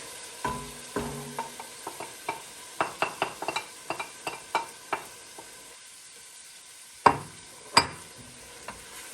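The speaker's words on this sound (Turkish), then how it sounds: "Böyle karıştırıyoruz. İyice pişireceğiz." Tomatoes and potatoes are stirred as they cook in a pan: a spoon clacks and scrapes against the pan in irregular strokes, with two louder knocks near the end, over a soft, constant sizzle.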